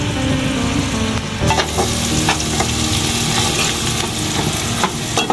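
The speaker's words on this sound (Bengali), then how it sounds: "লবণটা দিয়ে পেঁয়াজটা ভালো করে ভেজে নিব।" Onions sizzle loudly and continuously in a hot pan after salt is added, with stirring scrapes cutting through the close, dense frying hiss.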